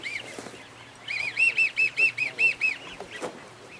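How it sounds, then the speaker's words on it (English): Ducks or geese calling during an Oklahoma waterfowl hunt as birds come down to land, a run of about ten evenly spaced nasal honks close by, over faint outdoor background. "look at the ducks coming down"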